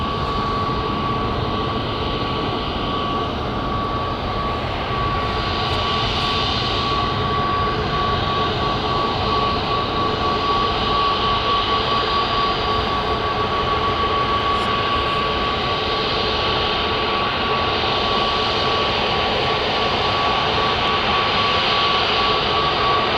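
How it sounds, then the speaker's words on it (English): A Jet2 Airbus A321neo takes off at Manchester Airport, its engines giving a loud, sustained roar with a steady whine running over it for more than twenty seconds. "next to take off then we've got an Airbus A321neo going to Paphos"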